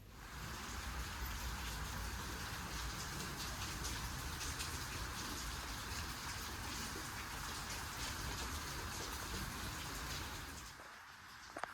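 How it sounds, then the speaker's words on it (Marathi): Steady morning rain falls as a constant soft hiss of drops on surfaces, faint and even throughout before fading out at the very end, with no voices. "सकाळी सकाळीच पावसाला सुरुवात झालेली"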